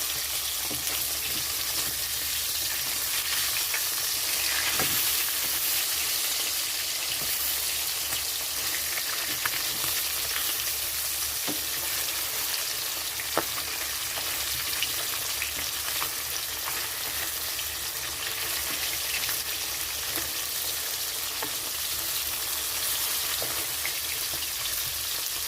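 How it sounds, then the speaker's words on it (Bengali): Koi and magur fish fry in hot mustard oil in a kadai, giving a steady, close sizzle that holds for the whole stretch with a few sharp pops and crackles and no talking. "মাছটা ভাজার জন্য কড়াইতে সরষের তেল দিয়েছি। তেলটা অলরেডি গরম হয়ে গেছে, তো এখানে আমি মাছটা দিয়ে দিচ্ছি ভাজার জন্য।"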